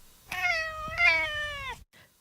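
A pet cat in an audio drama gives a long, clear meow that rises then falls, close and loud, followed by a soft brief chirp, without any purring heard.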